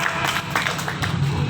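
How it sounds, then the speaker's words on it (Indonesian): Studio audience clapping at a hypnotist's stage show where a volunteer tries to bend a nail, a steady patter of hands at moderate level with no talk over it. "Penonton, tepuk tangannya mana?"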